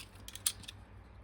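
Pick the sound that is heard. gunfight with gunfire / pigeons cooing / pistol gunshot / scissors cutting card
scissors cutting card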